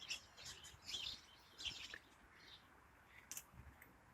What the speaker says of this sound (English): we have so many sparrows that live in this hedge line.